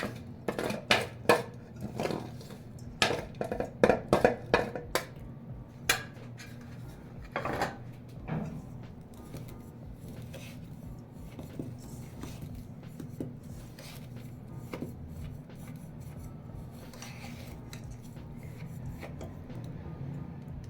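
Ground dry fruits are mixed together in a bowl: makhana, almonds, pistachios and walnuts. Irregular scraping, rubbing and clinking is busiest at the start and then settles into softer, sparse stirring.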